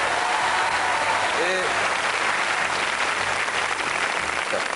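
Studio audience applause on a French TV quiz show, a loud, dense, even wash of clapping with a brief voice and a short whistle-like tone rising over it partway through.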